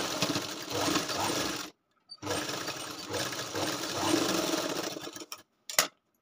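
A sewing machine stitches the shoulder seam of a lined katori blouse, a steady close mechanical whir that runs in two long bursts with a brief pause between and a short final burst.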